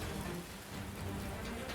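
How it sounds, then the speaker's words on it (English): Steady rain falls on a jungle island, a dense, even patter on surfaces that stays close and continuous, with no voices over it. "The rain is back."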